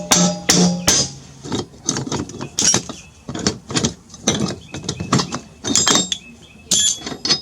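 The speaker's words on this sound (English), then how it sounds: "I'm going to tighten it up, maybe we'll tap on it a little bit," Sharp metallic taps strike a pulley puller tightened onto a jammed pulley on a mower deck, a quick irregular series of close, loud clinks and knocks with brief ringing, with no talk.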